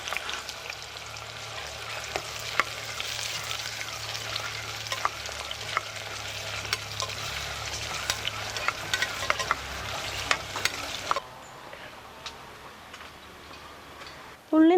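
Long-sliced onions frying in hot oil in a pressure cooker for a village-style mutton curry, a steady sizzle with light ticking stir clicks, fairly quiet, then fading out near the end.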